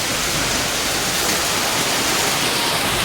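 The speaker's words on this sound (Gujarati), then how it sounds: "વરસાદ ચાલુ થઈ ગયો છે" Heavy rain pouring down in a continuous, loud, dense hiss that stays level throughout, with no voices heard.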